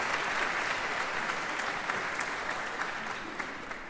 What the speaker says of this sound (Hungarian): Nos, tehát nyugodtan tapsoljanak.